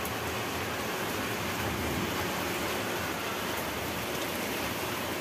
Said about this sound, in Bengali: বৃষ্টি শুরু